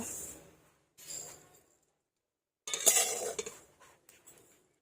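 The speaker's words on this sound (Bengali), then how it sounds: "দেখুন তিলগুলো ফটফট করে ফাটতে শুরু করেছে" Sesame seeds dry-roasting in a pan for coconut-sesame sweets, giving short bursts of crackling pops and scraping clinks, separated by quiet gaps, close and moderately loud.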